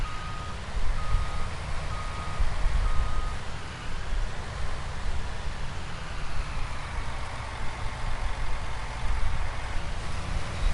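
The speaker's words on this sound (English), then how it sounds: "I'll move the truck over this way." Truck reversing beeps repeating at a steady rhythm over a loud, rumbling idling engine, close and continuous throughout.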